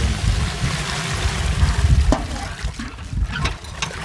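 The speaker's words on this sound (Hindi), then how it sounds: "ये पानी डाल रहे हैं" Water is poured into a cow dung mix for a farmer's home biogas plant, a fairly loud, continuous gushing and splashing with a low churning rumble, nearby and without speech.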